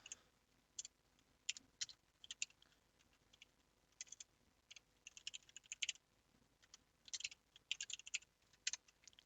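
Bursts of keystrokes on a computer keyboard as an R formula is entered, quiet irregular clicks in short runs separated by pauses, close and alone with no voices.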